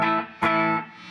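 Electric guitar played through an amp with a diode distortion mode in the style of a JCM 800, giving a crunchy sustained chord with a fresh strum partway through, close and loud with no talking.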